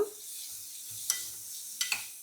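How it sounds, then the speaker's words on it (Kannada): Ground masala paste frying in a pan for a curd okra dish, with a brief sizzle at the start and a few sharp stirring scrapes over a low steady hiss. "ಮಸಾಲೆ ಹಾಕಿ ಸ್ವಲ್ಪ ಹಸಿ ವಾಸನೆ ಹೋಗೋವರೆಗೂ ಇದನ್ನು ಬೇಯಿಸ್ಬೇಕು."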